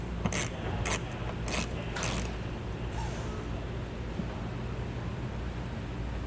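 Small T15 Torx screws being removed from the front fascia of a 2020 Volkswagen Passat, with a few quick ratcheting clicks early on over a steady background hum, then a soft continuous mechanical whir.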